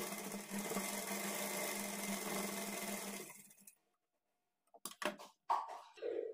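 A sewing machine runs steadily while stitching a blouse, a continuous whirring for about three and a half seconds, then stops; after a short silence a few soft handling clicks and rustles follow.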